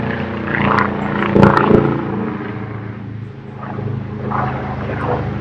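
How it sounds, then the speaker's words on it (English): A helicopter flies low over a lake, its steady rotor and engine drone filling the scene with a continuous rumble that swells and eases slightly as it passes, no voices present. "We got a helicopter here"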